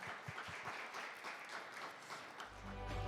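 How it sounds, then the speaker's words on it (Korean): An audience at a Seoul forum on AI gives a round of applause after a lecture, a soft, steady wash of clapping heard from a distance, with a low hum rising near the end. "큰 박수 한 번 더 보내주시죠"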